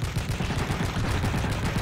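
Rapid bursts of video game gunfire in quick succession, loud and close, with a dense rattling rhythm and no talking.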